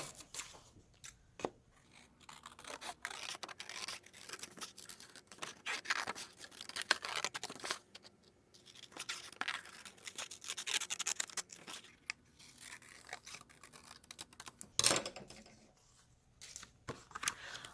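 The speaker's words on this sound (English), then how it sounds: "I have my scissors from the store." Repeated snipping and scraping of scissors cutting paper, close up, with rustling between cuts and a sharper snip near the end; no talking.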